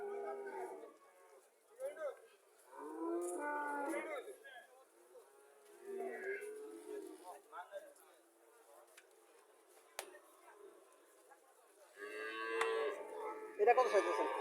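Cows and heifers at a village cattle market in Comilla moo repeatedly in loud bursts, close by, with crowd chatter and people talking throughout.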